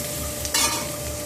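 Thickly cut onions fry in a pan with a steady, close sizzle, and a brief louder burst of hissing and stirring comes midway before the frying settles back to an even crackle.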